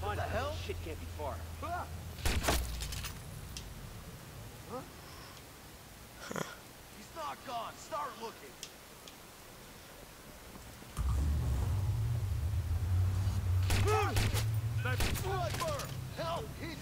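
Gunfire in the Watch Dogs video game, a few sharp shots and bursts at moderate loudness under voices talking, with a low steady rumble coming in partway through and more shots over it.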